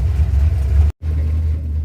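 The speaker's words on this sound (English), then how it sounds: "The new carburetor just starts and idles and runs." A car engine fitted with a new Edelbrock 1405 carburetor idles steadily and close by on a cold, windy day, a loud even rumble broken by one brief dropout.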